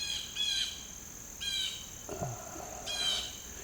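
Crickets and birds chirp in the countryside: three short bursts of high chirping arrive at regular intervals, faint and outdoors, with a brief lower bird call between them.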